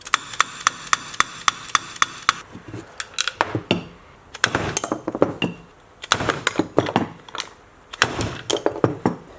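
Sharp metallic hammer strikes on a metal bush in a Honda S600 steering rack, first an evenly spaced series of hits, then irregular clusters of ringing clanks, loud and close.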